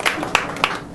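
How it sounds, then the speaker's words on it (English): A golf clap of three soft, evenly spaced claps, quiet and polite, from a small gathering in under a second. "Again, golf clap."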